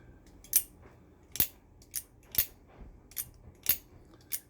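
The cylinder of a Cimarron Uberti 1858 New Model Army percussion revolver is rotated by hand, giving about eight crisp, close metallic clicks at uneven intervals, with no talking.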